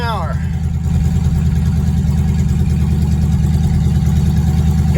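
A 1959 Edsel cruising at about 30 mph gives a steady, loud engine drone with a low rumbling hum and constant road and wind noise that carries evenly through the whole stretch.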